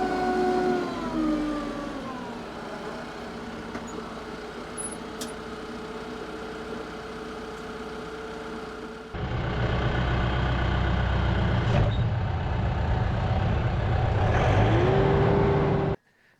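A farm tractor drives among cattle that are unafraid of it, its engine droning steadily and loudly, then growing louder and rougher partway through, with a brief whine near the end.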